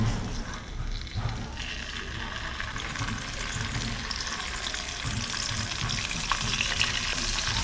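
Steady sizzling of scad (galunggong) frying in hot oil over a strong flame, a continuous crackling hiss that holds fairly level throughout with no voices.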